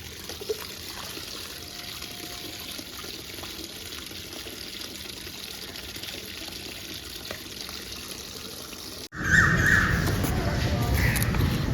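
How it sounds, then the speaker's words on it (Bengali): Water is poured over garden plants. After a quiet stretch of faint background, a loud, rushing splash of water starts abruptly and runs until the end. "আজকে একটু ভালো করে গাছগুলোতে জল দেবো"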